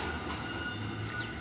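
A freight train bound for Port Kembla, running late from Brisbane, rolls steadily past on the railway with a continuous rumble, wheel noise and faint squeal, close and loud with no talking.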